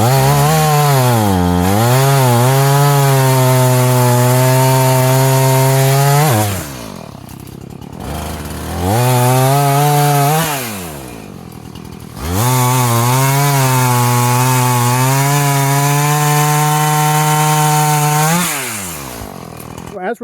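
A chainsaw cuts red oak limbs into firewood lengths, loud and close, revving in three long cutting bursts with brief idling dips between them.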